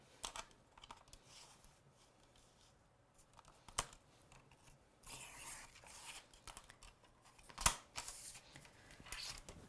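Scissors trim a piece of card during a watercolour and stamping craft session, producing quiet, close snips and crisp cutting rustles in short irregular bursts with pauses between.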